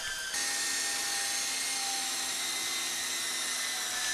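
Twister Hawk remote-control helicopter motor spinning up for a brief hop off the floor, a steady high-pitched whine that jumps sharply in pitch and stays loud and close, with no talk.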